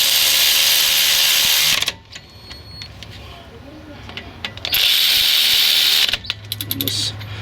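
A power tool drives brake caliper bolts on a Chevy GMC truck front brake job in two loud whirring bursts separated by quieter handling noises and talk.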